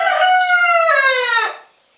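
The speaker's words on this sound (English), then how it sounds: "my roosters to be quiet" A single loud rooster crow rings out nearby, a drawn-out call that rises and falls before fading into quiet.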